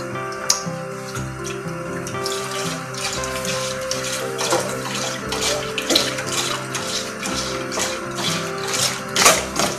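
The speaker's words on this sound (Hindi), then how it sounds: "2 पैकेट दूध डाल दूंगा।" Milk from two packets pours steadily into a pan for a fruit custard, a continuous splashing liquid flow that stays close and fairly loud throughout, with music playing underneath.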